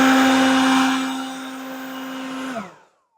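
A Ryobi P2014 18V cordless leaf blower runs with a steady, close whirring motor whine and rushing air, easing slightly in intensity before spinning down and cutting off near the end.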